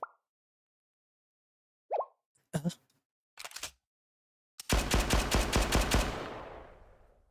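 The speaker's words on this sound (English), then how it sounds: "Did I just hear Rin shoot a gun?" Gunfire in the game Blue Archive: a few isolated sharp shots and clicks, then a loud rapid automatic burst with a fading tail, alone without talk.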